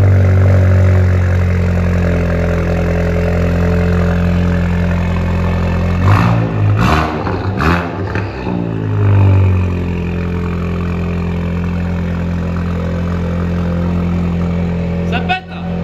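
A Cupra Ateca with a Friedrich Motorsport exhaust, downpipe with catalyst, runs with a deep loud idle rumble, briefly revving in the middle before settling back, heard close up with talking partly over it.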